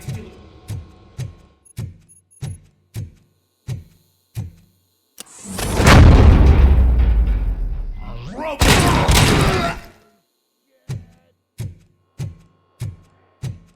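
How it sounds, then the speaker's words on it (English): A steady series of sharp, evenly spaced gunshot-like bangs in the video game RoboCop: Rogue City, interrupted by a few seconds of loud roaring noise, then the regular shots resume. "Am I hearing gunshots?"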